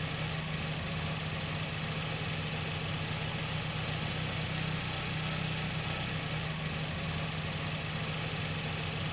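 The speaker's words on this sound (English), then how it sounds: "my assistant starts and stops the engine as needed" Car engine running steadily during an automatic transmission fluid flush, a constant even idle hum with a faint whine, no talking.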